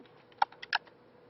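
A few keystrokes on a computer keyboard while working in AutoCAD, sharp separate clicks in a short, uneven burst close to the mic, with no talking.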